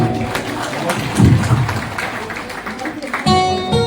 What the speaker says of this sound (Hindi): संस्था के लिए बहुत बहुत तालियां